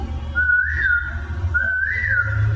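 A voice imitates a cuckoo call with whistled two-part phrases, each a level tone rising into a short swell, repeated twice with a pause between, loud and close over a low steady background hum.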